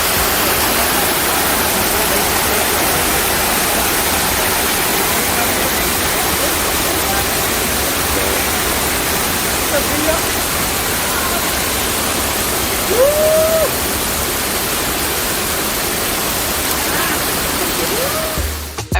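Roaring waterfall at Victoria Falls, Zimbabwe: a steady, loud, dense rush of falling water filling the whole scene without pause, with a brief faint voice or bird-like call around the middle.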